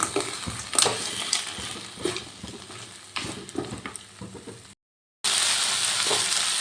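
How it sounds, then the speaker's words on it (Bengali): Dates and dry fruits being stirred into a fruit chutney in a pan, with scraping spoon strokes over a steady sizzle, then a brief break before the frying hiss returns louder and continuous; no talking. "এরপর আমি দিয়ে দিচ্ছি কিছু ড্রাই ফ্রুটস দিয়ে আবারও ভালো করে নেড়ে নেব"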